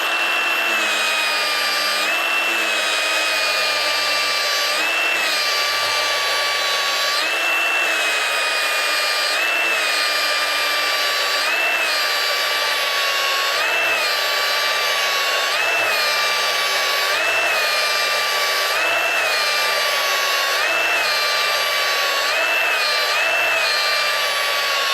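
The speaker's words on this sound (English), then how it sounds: "aim of this with the 240 grit is to actually get rid of the 80 grit grind marks" A stainless steel butt weld being polished with a 240 grit abrasive on a power tool, a loud continuous whine that holds steady for the whole stretch, with regular slight dips as the pad passes back and forth over the weld.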